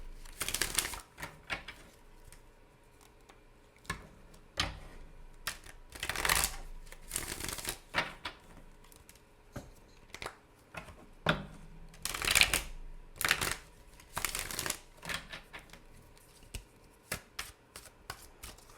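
A tarot deck being shuffled by hand in a quiet room, with repeated soft riffling bursts and card slaps coming in an irregular rhythm and close to the listener.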